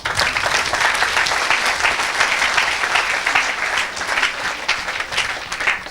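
A church congregation claps and cheers for the Lord, dense continuous applause with scattered shouts filling the room at a strong, even level throughout.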